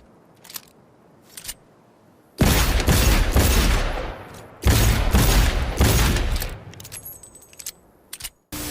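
Gunfire from Cyberpunk 2077 weapons: a few faint early shots, then two long, loud bursts of rapid fire near the start and middle, tailing into scattered single shots and mechanical clicks.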